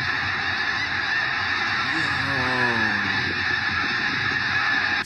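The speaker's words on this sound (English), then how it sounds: "Dang, is this every snow geese all in one place at the same time?" A huge flock of snow geese honks in a dense, continuous din, with a few clearer nearby calls rising above the steady wash of noise.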